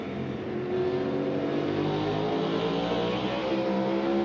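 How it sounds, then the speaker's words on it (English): A NASCAR Cup Series race car engine roars at high throttle from an on-board perspective, a loud sustained harmonic drone that holds steady through the clip, with a slight rise after the first second. "you'll notice when you hear the gear shift, you see his foot stay wide open"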